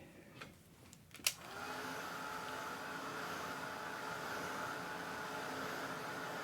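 Hair dryer blowing over a freshly painted watercolor mountain stream scene, a few handling knocks, then a steady close whooshing drone that runs on alone.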